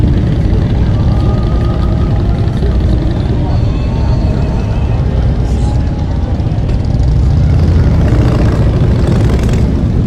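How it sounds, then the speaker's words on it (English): Club motorcycles roll down a small-town main street during an evening Christmas parade, a continuous loud engine rumble close by with a commentator talking over it throughout. "Apple City Motorcycle Club here in Jackson, Ohio, making their way down Main Street."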